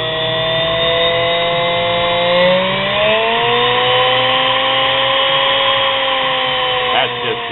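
A sewing machine motor drives a homemade mini bench grinder at high speed, giving a loud, steady whine that rises in pitch as it spins up, holding a sustained tone with harmonics throughout.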